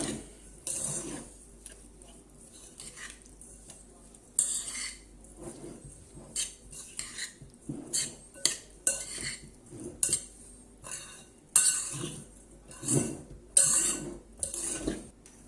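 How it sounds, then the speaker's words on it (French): A spoon stirs a mixture with toasted, pounded rice, giving repeated close scraping clinks against the dish in uneven bursts, with no talking. "Et là, on mélange."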